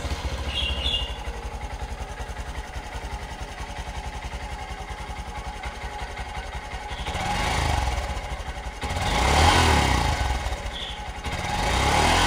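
Small Honda Monkey motorcycle engine idling with a soft, steady putter close by, then swelling louder in a couple of surges toward the end, with no talking.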